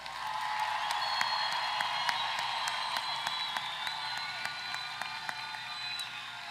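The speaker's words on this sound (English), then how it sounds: "one more round of applause for all our graduates" Sustained applause and cheering from a large university commencement crowd honoring graduates, steady and dense for the whole stretch with scattered sharp claps standing out.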